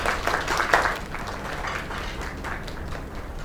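Applause from a small crowd in the video game Lake, a steady dense patter of clapping with cheering, sustained at moderate level throughout.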